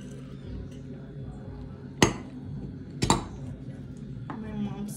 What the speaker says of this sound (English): My mom's chopping up the shrimp.